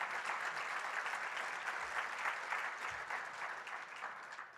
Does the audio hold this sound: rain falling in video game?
no